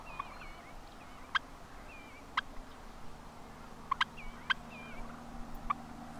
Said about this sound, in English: He's clucking and clucking, and he's watching.